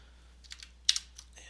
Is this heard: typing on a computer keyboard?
yes